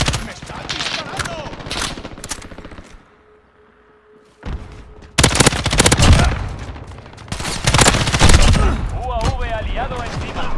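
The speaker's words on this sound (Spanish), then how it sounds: "¡Me está disparando!" Loud bursts of automatic gunfire in a Call of Duty Modern Warfare beta multiplayer match, several sharp volleys close by, broken by a short near-silent lull before the shooting resumes even heavier.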